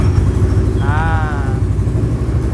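A Kawasaki Versys 650 motorcycle fitted with an Akrapovic exhaust idles nearby, a loud, steady low-pitched engine rumble with a brief faint whistle-like tone passing over it midway.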